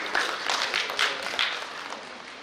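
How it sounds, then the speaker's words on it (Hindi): Applause breaks out for the guests, including a renowned poet, at a stage event, a short burst of steady clapping from an audience that fades slightly toward the end. "जोरदार तालियां हो जाए आप सभी के लिए।"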